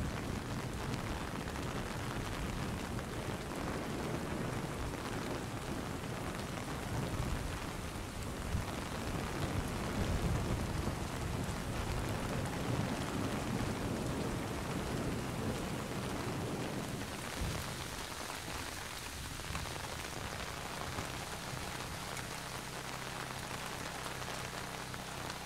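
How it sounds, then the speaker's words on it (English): Heavy rain pours steadily in Splinter Cell Chaos Theory, with deep rolling thunder rumbling beneath the downpour throughout, easing slightly toward the end. "It's really raining."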